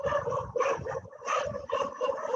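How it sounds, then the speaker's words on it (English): Several dogs barking in short repeated bursts nearby, loud and continuous, with yips mixed in. "dogs are so much barking"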